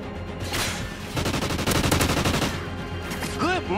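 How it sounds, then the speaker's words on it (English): Rapid video game gunfire rattles in dense bursts, loud automatic fire stacking into a long volley with a pause between, then a few scattered shots and whooshing effects near the end. "You almost shot me."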